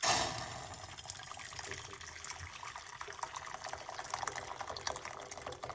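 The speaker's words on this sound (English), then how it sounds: "we're gonna put 1 cup of hot water." Hot water poured into a cup in a home kitchen, a steady soft trickle and splash that runs alone for several seconds at moderate, fairly faint level.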